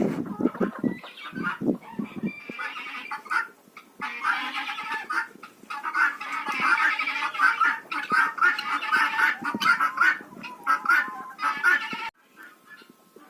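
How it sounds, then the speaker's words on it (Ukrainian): Hens in a village henhouse give a steady run of clucks and squawking cackles, fairly close and continuous, opening with a few low footstep-like thumps and no talk. "І курочка зі мною тут ось зайшла хорошенька моя"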